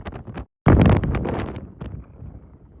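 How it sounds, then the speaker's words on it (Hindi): Strong outdoor wind buffets the microphone in a park, a loud rumbling roar with a brief dropout followed by sustained gusting. "बहुत हवा चल रही है अभी।"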